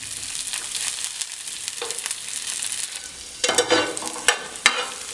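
Onions are lightly fried in a pan, making a soft, steady sizzle with stirring scrapes that rise into louder clattering bursts toward the end.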